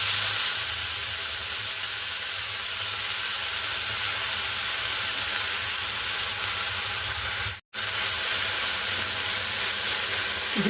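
Tamarind shoots fry in a spoonful of oil on a gas stove, giving a steady loud hiss and sizzle throughout, broken by one brief silent gap near the end.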